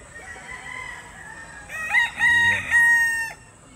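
A white claret street-breed gamefowl rooster gives one loud, close crow in several rising and held harsh bursts, after a quieter stretch of faint background noise.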